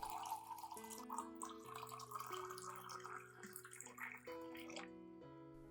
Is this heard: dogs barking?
no